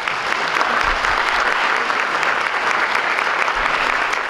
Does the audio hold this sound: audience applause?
yes